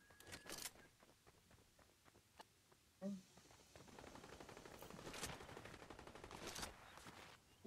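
Gunfire in Fortnite: bursts of rapid game shots, some sharp and some softer and more distant, mixed with clattering movement and footstep noises at low overall level, with a voice talking at times.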